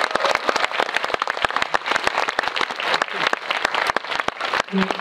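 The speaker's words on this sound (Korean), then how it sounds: "그래서 먼저 큰 박수로 한번 다시 기운 좀 가져가고" A large theater audience of about 280 claps loudly and steadily at a Korean film talk event for the movie The House of Us, a dense, continuous patter of many hands that stays strong throughout.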